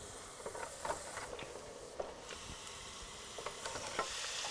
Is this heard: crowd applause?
no